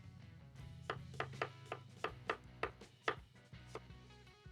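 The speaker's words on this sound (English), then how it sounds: "yes, there is chopping." A knife chops food on a cutting board in a steady series of about ten crisp, evenly spaced strikes, close and alone over a low background hum.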